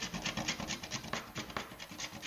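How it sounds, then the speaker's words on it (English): Baking chocolate, the unsweetened kind, rubbed against a grater in a kitchen, a close, steady rasping scrape in quick repeated strokes with no talking. "I'm going to grate about a tablespoon or so"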